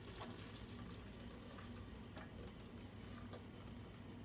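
A hot mixture is poured into a bowl of eggs, sugar and cornstarch while making caramel banana cream pie, giving a steady, soft liquid gush with faint splashy ticks, quiet and continuous for several seconds, no talking.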